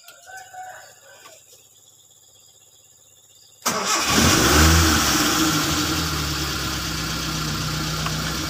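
After a quiet stretch, a car engine is started again with the starter, revs up briefly, then drops back to an even idle, heard up close.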